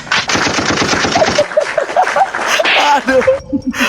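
Rapid automatic gunfire in a video game, loud and close, with fast bursts of shots running almost continuously.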